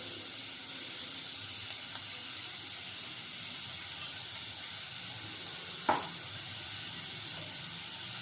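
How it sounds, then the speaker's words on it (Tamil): Salted onions fry in a pan for an egg fry, with a constant soft sizzle and hiss throughout and a single sharp clink of a utensil partway through. "அப்போ தான் நல்லா வெங்காயம் நல்லா வதங்கும்."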